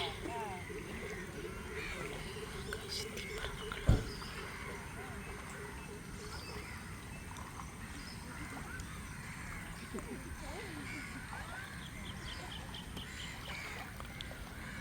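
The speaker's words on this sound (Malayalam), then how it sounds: "കാക്കകൾ പറക്കുന്നു" Crows caw intermittently at a distance over a steady outdoor noise bed at a flooded house construction site, with a sharp knock partway through.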